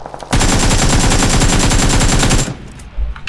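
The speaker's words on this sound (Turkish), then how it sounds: "kesin ona sıkıyorlar ha" Sustained automatic gunfire from the video game PUBG Lite, a loud, dense rapid burst lasting about two seconds that cuts off abruptly, followed by quieter game ambience.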